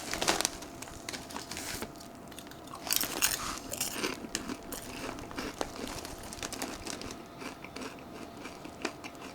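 Lays Salsa Fresca potato chips being eaten, with close crunching, crisp bites and chewing alongside faint bag crinkles, continuing steadily without talk.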